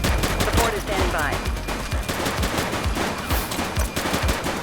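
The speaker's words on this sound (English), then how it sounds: "He's shooting!" Rapid gunfire in the police video game The Precinct, a dense series of sharp, loud shots cracking in quick irregular bursts with a faint voice in the mix.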